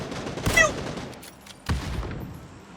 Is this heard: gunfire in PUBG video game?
yes